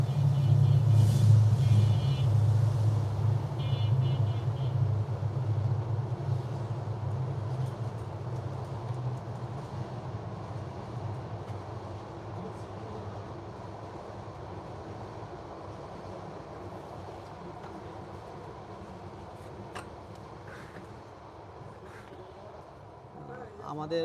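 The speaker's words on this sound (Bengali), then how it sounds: "পাশে ট্রেন যাচ্ছে একটু ওয়েট করতেছি আমরা" A train passes close by with a deep rolling rumble, strongest at the start and slowly fading over some twenty seconds, while voices talk in the background.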